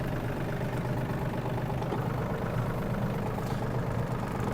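A Yanmar RS-27 Japanese mini tractor engine runs steadily with the tiller turning at its top speed, a constant low diesel drone and mechanical rattle close by, with no talk over it.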